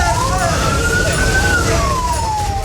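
A fire engine siren wails, rising and falling in pitch over steady traffic rumble, loud and continuous throughout, as crews respond to a fire at market stalls.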